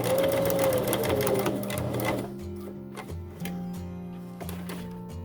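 A sewing machine stitching a fabric face mask, running as a loud, fast, steady whirring rattle that slows and then comes in short stop-and-start bursts, heard close up.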